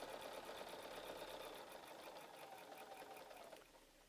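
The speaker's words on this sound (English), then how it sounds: "all I've got to do is sew down that line." A sewing machine stitches a straight line on a quilt, with a steady, fast mechanical whirr and needle chatter running continuously up close before easing off at the end.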